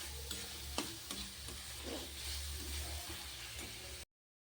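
Seasoning sizzling and being stirred in a pan for baingan bharta, a steady low frying hiss with occasional faint scrapes and clicks, no talk.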